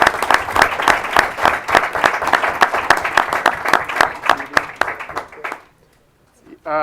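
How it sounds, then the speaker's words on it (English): A school board meeting audience applauds, dense steady clapping that carries on for several seconds before cutting off abruptly. "Another round of applause, please."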